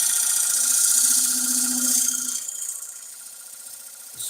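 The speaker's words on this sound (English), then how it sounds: "start off the main foot just by scraping gently, and this is side grain, so we can get away with scraping without tearing" A skew chisel scrapes the side grain of a wooden bowl's foot spinning on a lathe, a steady high hissing rasp over a faint motor hum that eases off halfway through.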